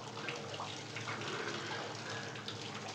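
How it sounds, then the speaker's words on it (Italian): Water runs steadily from a tap, a continuous close splashing flow that fills the whole moment without pause or voices. "Mi sembra l'acqua."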